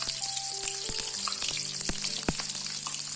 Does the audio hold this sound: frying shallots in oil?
yes